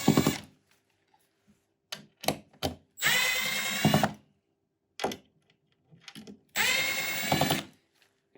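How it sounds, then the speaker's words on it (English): A power driver loosens four screws on the enclosure of an ALX-LITE or ELITE chemical allocation controller, with short whirring bursts and two longer buzzing runs separated by clicks and silence, close and alone. "Next, we're going to loosen the 4 screws"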